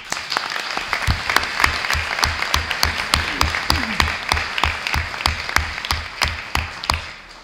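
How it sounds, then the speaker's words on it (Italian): Audience applause at a conference on consecrated life, a rhythmic, fairly sparse clapping with distinct individual claps in a steady beat throughout, moderately close, with a brief faint voice midway. "L'applauso gli arriva con qualche secondo di ritardo"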